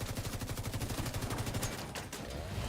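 Rapid, evenly spaced gunfire in a video game, shooting an enemy, sounds as a fast rattling burst of shots, fairly faint, followed by a couple of sharper cracks.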